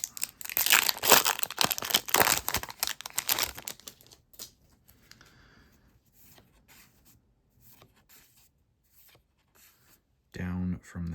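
A Lord of the Rings trading card game booster pack from the Battle of Helms Deep set crinkles and tears open in loud, close bursts of rustling foil, then softer handling of cards and a brief louder rustle at the end.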